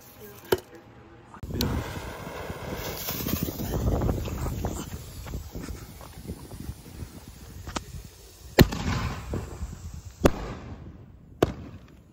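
Halo firework shells with gold titanium willow and sky blue mine effects go off outdoors: several sharp launch thumps and loud cracking bangs spread across the stretch, with crackling and rushing in between and a voice talking at times.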